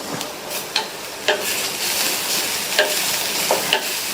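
Cauliflower masala with chopped coriander leaves sizzling in a pan while being stirred, a continuous close frying crackle broken by several sharp scraping strokes of the spoon at uneven intervals.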